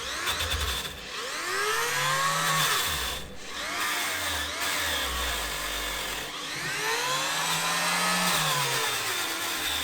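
A Parkside PGS 500 die grinder whines and rises and falls in pitch as a small wire brush scrubs against metal, loud and close, in uneven bursts.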